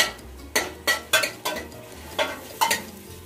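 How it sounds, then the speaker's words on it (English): Onion sautéing in olive oil in a pan for a vegetable soup, heard as about seven distinct scraping, clinking stirs spaced through the clip over a faint background, with no talking. "Just a few minutes to saute the onion."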